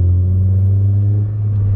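A Honda Civic Si engine gives a deep, steady, loud rumble at close range with no break and no voices.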